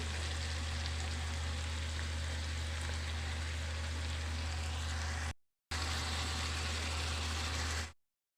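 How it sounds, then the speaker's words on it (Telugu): Brinjal pieces fry with green chili paste in a pan, a loud, steady sizzle that runs continuously, breaks off briefly, then resumes before cutting out. "ఇప్పుడు ఫ్రై చేద్దాము ఇప్పుడు ఈ వంకాయ ఫ్రై అయ్యేలేపు ఈ పచ్చికారం కూడా మగ్గిపోతుందండి"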